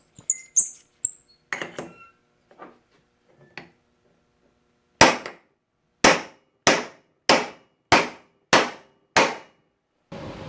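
A bushing is driven into a 1975 Chevrolet C20 truck part with a homemade driver set, first several lighter taps, then a run of about eight sharp, evenly spaced hammer blows, close and loud against quiet.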